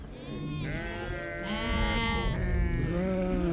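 Mountain sheep bleating in long wavering cries, several animals calling over one another, loud and near against a steady background hum.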